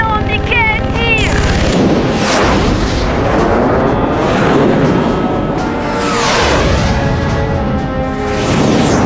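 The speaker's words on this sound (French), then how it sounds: "Qu'est-ce que tu attends, Mickey? Tire!" Cartoon gunfire and explosive blasts, loud and dense across the whole stretch, with voices shouting over the barrage.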